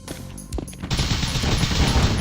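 Gunfire from a gunfight in The Fifth Element, the 1998 PS1 video game: a few sharp shots up front, then a loud, dense stretch of rapid shooting and booming game noise, with no talking.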